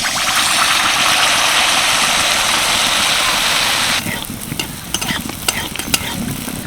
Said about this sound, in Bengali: এই দেখো মাত্র দেড় চামচ তেলেই কিন্তু এত সুন্দরভাবে পিঠেগুলো ভাজা যাচ্ছে